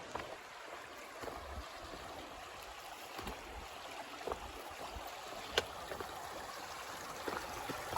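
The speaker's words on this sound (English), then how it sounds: "Here is the Kennebec River crossing" The Kennebec River, running low after dry weather, flows past a trail crossing as a soft, even rush of moving water with faint scattered splashes, distant and quiet, with no one speaking.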